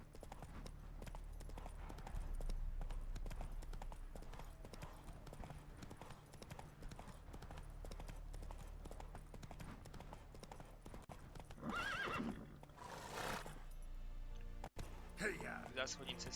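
The horse Roach clip-clops steadily at a gallop through The Witcher 3 video game, with continuous rhythmic hoofbeats and a brief whinny-like burst near the end, while someone talks over it.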